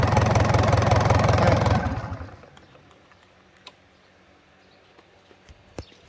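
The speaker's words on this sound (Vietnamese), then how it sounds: "Động cơ này nổ" A mechanical-era Isuzu 4JB1 diesel engine runs loud and steady at low throttle for under two seconds, then shuts off, leaving near quiet broken by a few small clicks and knocks.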